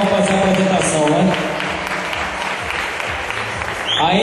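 An audience at a bodybuilding competition applauding the athletes on stage, a loud burst of clapping that eases into a lighter patter before rising again at the end.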